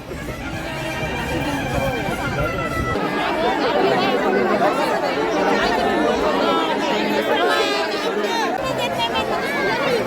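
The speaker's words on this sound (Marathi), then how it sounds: "बघा किती गर्दी आहे इकडे पाय उचलायला जागा नाही" Dense crowd of pilgrims at the Dehu palkhi procession for Sant Tukaram, a loud continuous wash of many overlapping voices and chatter close around, steady throughout with no single voice standing out.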